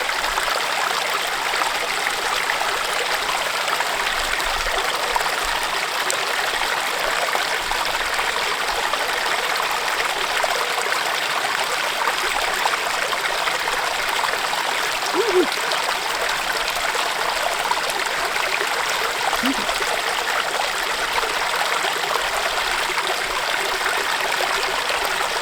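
A stream flows steadily near a campsite, a continuous even rush and trickle of water at close range with no other sounds.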